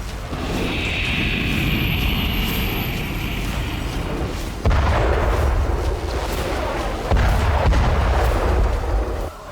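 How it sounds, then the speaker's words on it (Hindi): A Zulfiqar-class ballistic missile launched from the Iranian warship Shahid Mahdavi roars in a loud, sustained rumbling blast with a high hiss at the start, then two sudden surges in the roar as it continues. "ईरान ने शाहिद महदवी एयरक्राफ्ट कैरियर से जुल्फागर क्लास बैलिस्टिक मिसाइल लॉन्च की"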